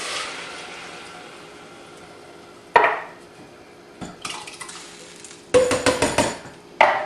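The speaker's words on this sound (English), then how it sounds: "I'm using crushed tomatoes. 2 of the bigger cans of them. And I just dump them in." Two large cans of Hunt's crushed tomatoes are emptied into a cooking pot for red sauce, giving a few sharp clanks of can against metal rim and soft wet plops, with quiet pauses between the bursts.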